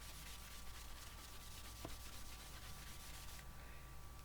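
A tissue rubbed over an embossed card makes a quiet, steady dry scrubbing, soft and close with no voices.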